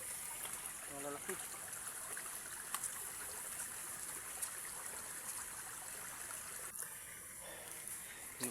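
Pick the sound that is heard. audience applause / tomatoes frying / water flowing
water flowing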